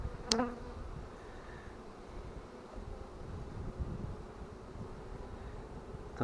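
Honeybees clustering at an apiary hive make a soft, continuous buzzing drone with faint wind, heard close and fairly quiet throughout with no talking.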